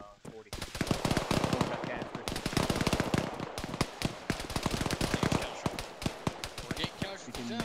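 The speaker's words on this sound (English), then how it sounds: "You're getting shot at." Rapid machine gun fire from a military video game, played by a realism unit during a tactical operation: loud, dense bursts of shots rattling almost continuously, with voices talking over the gunfire.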